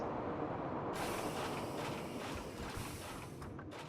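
A roller coaster train from a hyper coaster in a theme park building game rolling into the brake run, a sudden hissing whoosh of air over a low rumble, loud and sustained and tapering off at the end.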